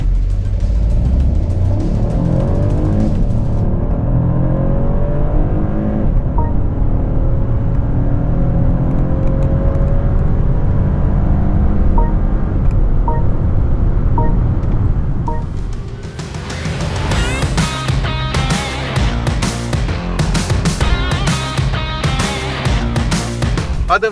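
A BMW 2 Series Gran Coupe petrol engine switching into sport boost mode during a test drive: steady, loud engine drone with rising revs under acceleration, then a gear change and a busier, pulsing engine note near the end.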